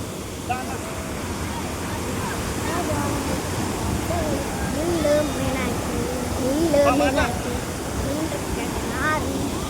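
A steady roar of rushing water from Athirappilly waterfalls near Kochi, Kerala fills the air, broad and constant, with voices and whistles faintly audible over it.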